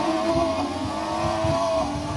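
An F1 car engine from a racing video game set around 1988 holds a steady, buzzing, high-pitched drone with slight pitch wobbles throughout. It is loud and alone, with no talking over it.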